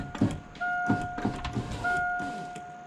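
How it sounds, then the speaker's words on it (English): The power window of a 1987 Saleen Foxbody runs after a bushing replacement, its electric motor whining steadily through two passes with soft ungreased clunks at the start and stops. "now we can test the window."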